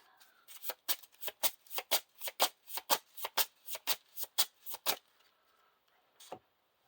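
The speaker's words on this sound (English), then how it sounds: "we shuffle these back into the deck" Playing cards are riffled in quick rhythmic bursts, about fifteen crisp flutters in a row up close, then a pause and one last snap.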